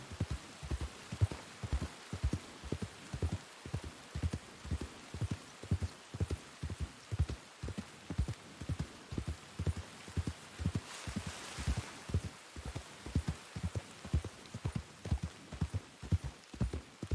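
Horse hooves clip-clopping in a Wild RP roleplay game, heading for a stable: a steady, even walking rhythm of soft close thuds running throughout, fairly quiet, with a faint hiss of rain-like noise behind.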